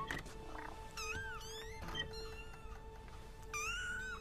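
Kittens meow in a Harry Potter film scene, several high, wavering mews spaced apart over a quiet, steady background hum, fairly faint.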